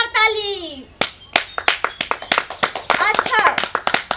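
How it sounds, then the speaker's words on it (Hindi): An audience claps loudly at a stage show, with sharp, irregular hand claps building into a quick patter after a brief voice at the start. "हो जाए जोरदार ताली।"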